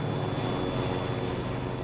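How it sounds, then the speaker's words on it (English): A brand-new Jetstream 4100 twin-engine turboprop regional airliner drones steadily from inside, a constant propeller and engine hum with a faint high whine, no variation throughout. "They're flying a brand new Jetstream 4100."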